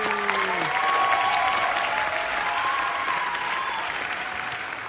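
Sustained applause from an audience at a startup competition finalist announcement, a dense, even roar of clapping that holds loud for several seconds after a brief spoken word at the start.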